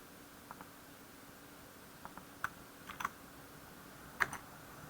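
Computer keyboard keys are pressed for copy-paste shortcuts, heard as a few sparse, quiet clicks in small pairs and clusters over faint background hiss.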